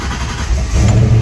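Turbocharged Foxbody Mustang engine running at idle, a loud close low rumble that steps up slightly in level partway through, with no voices.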